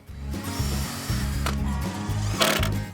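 A screw is driven into a wooden musical tube in a short, steady whirring run with brief pauses and a sharp burst of grinding near the end, close and fairly loud, with no voices.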